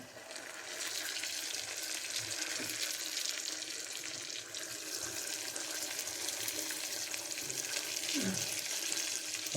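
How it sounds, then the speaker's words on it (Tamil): Ginger and garlic fry with sautéed onions for egg biryani, making a steady, fairly faint sizzling hiss throughout, with no talking. "இஞ்சி பூண்டு போட்டுக்கலாங்க வெங்காயம் ஓரளவுக்கு நல்லா வதங்கிடுச்சு"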